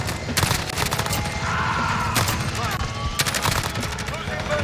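Rapid gunfire from a Kilo 141 rifle in Modern Warfare rattles in dense, continuous bursts. Other game sounds and a brief whistle mix in, and a voice is faintly present underneath.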